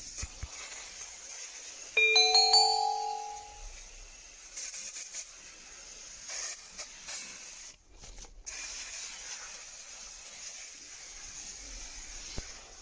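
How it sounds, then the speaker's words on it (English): A steady hiss of aerosol cleaning foam spraying close by onto car upholstery, running in long bursts with brief pauses and a few faint tonal chimes early on. "First, just spray the foam."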